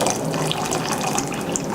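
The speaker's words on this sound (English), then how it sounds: "I'm going to take boiling water, about a cup and a half worth." Boiling water poured for tea, a steady rushing splash of liquid filling a vessel, moderately loud and continuous with no talking.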